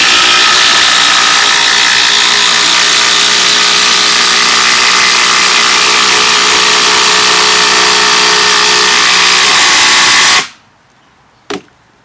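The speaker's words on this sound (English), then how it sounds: "Can it drive 280mm in with no pilot hole?" A Makita DTD171 impact driver drives a 280mm screw without a pilot hole in one loud, continuous hammering burst of about ten seconds. It then cuts off abruptly, followed by a short faint tap.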